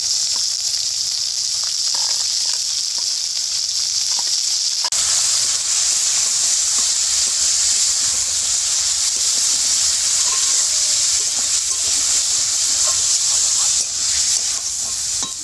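Minced meat for chicken patties sizzles and hisses steadily in a hot pan, a loud continuous frying crackle that grows fuller after the meat goes in, with occasional stirring scrapes and no talk.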